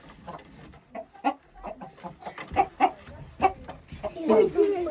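A hen that has just laid an egg clucks repeatedly and close by in a farmyard in Volyn. Its uneven run of clucks builds toward the end.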